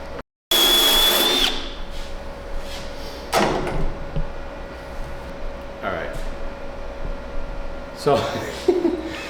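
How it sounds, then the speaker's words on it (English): A power drill fitted with a metal wire brush bit whines in bursts, with a loud start, then several shorter buzzing runs and scraping against a surface between pauses, during a firewall mount install on a 1967 Chevrolet Camaro. "I'm gonna run and get that drill with that metal brush bit."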